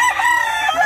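A hungry rooster crows briefly and fairly loudly nearby, a short strained call with no talking over it.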